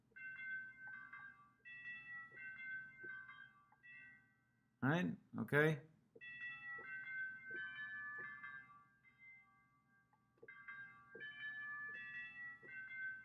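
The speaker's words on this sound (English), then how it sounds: "I'm going to do some church bells." Church bell notes play from an instrument patch in music software, chiming in soft repeating phrases, with a short burst of a person talking partway through before the bell pattern resumes.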